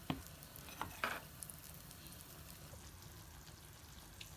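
Chicken and onion fry in a tajine with a quiet, steady sizzle. A few soft clinks of stirring land near the start.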